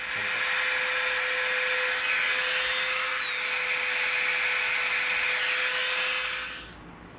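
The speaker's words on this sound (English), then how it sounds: "we're going to come in here with this tiny little Dremel bit" A Dremel fitted with a tiny bit carves EVA foam with a steady, loud, high-pitched whine and gritty grinding that holds for several seconds, then winds down at the end.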